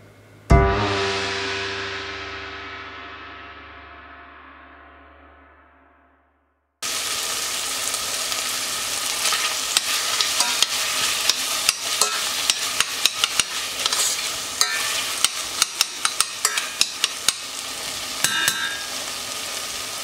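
A loud splash and sizzle rise as wild mushrooms hit a hot pan for a cream sauce, fade away, then return as a steady frying hiss broken by many sharp stirring clicks and scrapes.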